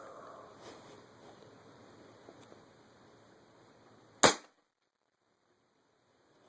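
A single sharp shot from a .25 caliber Marauder air rifle, loud and abrupt against a quiet outdoor background, followed by near silence.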